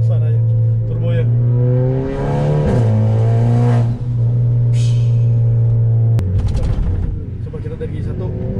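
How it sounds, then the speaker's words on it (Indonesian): A VW Scirocco 1.4 TSI engine revs up loudly nearby, rising in pitch and then dropping off with a sharp turbo release, under a voice. "Suaranya turbo ya."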